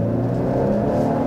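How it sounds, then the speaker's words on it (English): Steady, loud drone of a Mercedes E-Class convertible's high-revving four-cylinder engine as the car accelerates out of a corner, heard from the cabin, continuous and unbroken with no talk. "You hear that high revving four cylinder engine."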